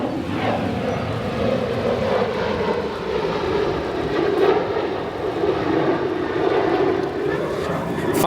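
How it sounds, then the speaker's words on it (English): A UPS Boeing 767 cargo jet arriving at Chicago O'Hare airport from Louisville gives a steady, broad jet-engine roar that holds loud and continuous throughout, with no voices over it. "Our next arrival will be a Boeing 767 UPS from Louisville."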